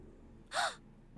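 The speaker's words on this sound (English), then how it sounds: "Then he began to hear his own breathing." A single sharp breath drawn in, from the video game 999: Nine Hours, Nine Persons, Nine Doors, heard alone and up close against near silence.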